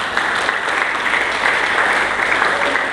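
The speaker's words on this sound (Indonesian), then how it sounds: "Berikan tepuk tangan bagi Yesus." A church congregation claps in sustained, even applause that fills the room from start to finish, with no voices standing out.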